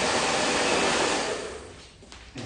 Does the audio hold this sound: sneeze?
no